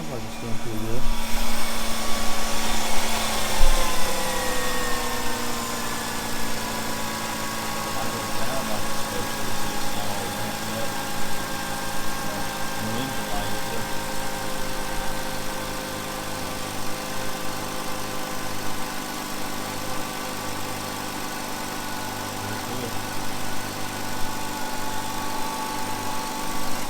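A 2005 Hyundai Sonata engine idles steadily and evenly after a coil pack replacement, with a constant, fairly loud hum and no revving from start to finish.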